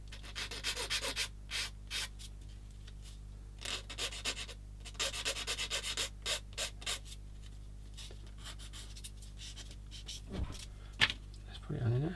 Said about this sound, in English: Bit of sanding got to be done there.